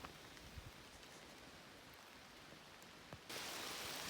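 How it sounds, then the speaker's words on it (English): Light rain falling on a leafy forest along a rocky gorge on the Appalachian Trail in Massachusetts, a steady soft patter and hiss of drops on foliage throughout, growing noticeably louder and denser near the end. "Well, the rain finally caught up with me. It's just a light rain."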